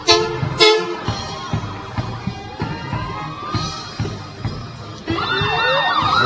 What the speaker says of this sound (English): then the ambulance, 2 of them coming through